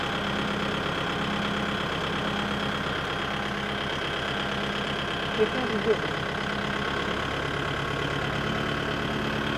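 A Japanese tractor engine idles steadily at about 1100 rpm, a smooth, even low rumble throughout, with a couple of faint knocks near the middle.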